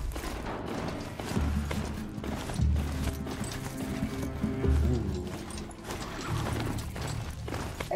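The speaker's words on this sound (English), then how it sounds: "I'm just, galloping on through" A horse gallops in the video game Horizon, its hooves pounding in a steady, near, moderately loud rhythm over background game ambience.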